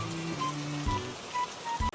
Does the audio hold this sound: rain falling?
yes